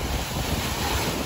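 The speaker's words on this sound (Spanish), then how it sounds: "las olas están poniendo más agresivas" Ocean waves surge and break along a fishing shore with strong wind buffeting the microphone, a steady close roar of surf and gusts with no voices.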